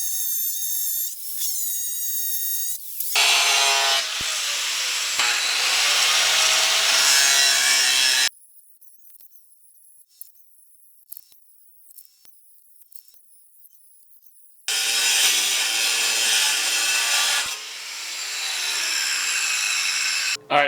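A cheap diamond-coated drill bit grinds harshly through material in two long loud passes, separated by a quieter stretch of scattered clicks and rustles, the cutting rough and scraping.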